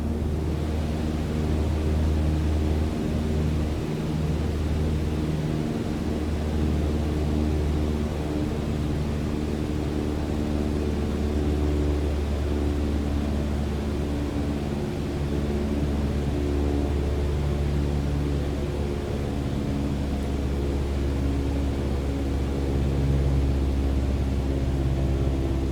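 A propeller plane's engine droning steadily at reduced RPM during a nose-down descent in Microsoft Flight Simulator, a constant even hum with no talk over it.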